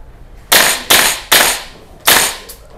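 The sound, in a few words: replica gun firing in burst mode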